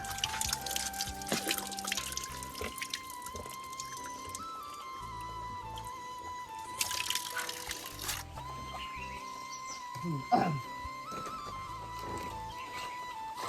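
Clothes being washed by hand with water outdoors in a Nepali village, with steady dripping, pouring and trickling water and occasional wet splashes throughout, close and moderately loud, with no talk.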